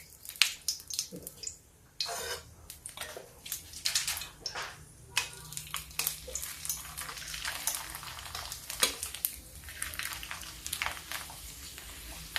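Papad cooks in a pan, with irregular bursts of bubbling, crackling frying and spitting oil rising and falling throughout, close and fairly quiet, with no talking.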